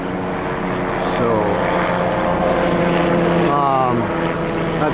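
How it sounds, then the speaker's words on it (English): A hospital ambulance helicopter drones overhead with a steady engine hum while someone talks over it. "that's the hospital ambulance helicopter"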